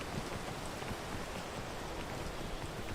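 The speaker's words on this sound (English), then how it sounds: "Okay, is the rain going to stop?" Rain falls steadily in the woods, a dense, even patter of drops on surfaces heard close and moderately loud with no voices.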